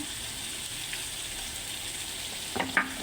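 Hot oil softly sizzling in a pan while making a spicy onion bharta, a faint steady hiss with a couple of brief clinks near the end.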